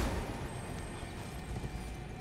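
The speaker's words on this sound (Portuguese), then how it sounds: "Deixa eu ver se dá pra chamar o cavalo." Horse summoned and galloping in the Elden Ring video game, steady hoofbeats pressing close and fairly loud across a dense, even game soundscape with no talk.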